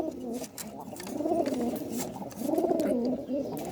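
Pigeons cooing close by, two rounded, throaty rolling coos rising and falling in pitch, the second starting after a short pause, over a quiet background.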